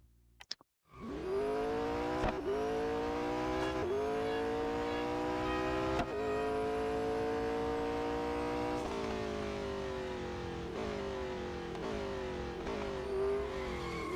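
Race car engine from the Real Racing 3 mobile game, loud and sustained with rising and falling revs as gears shift and the car brakes into corners, running steadily throughout with no talk.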